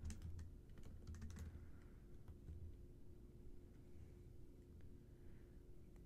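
Computer keyboard typing as a title is entered into a legal research database search bar, a run of quick clustered keystrokes early that thins to sparse, scattered taps, close and fairly quiet over a low steady hum.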